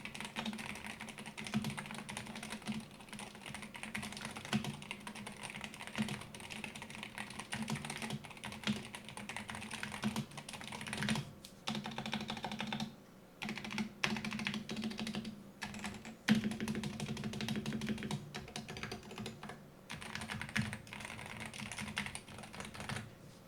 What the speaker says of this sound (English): we will do sound test of this keyboard